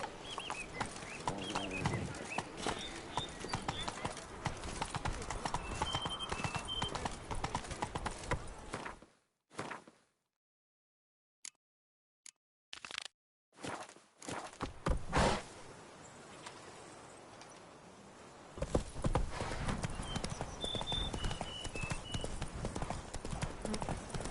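Horse hooves clip-clopping steadily in a video game, a continuous near rhythm with a brief quiet break midway, then resuming, with faint bird chirps in the background.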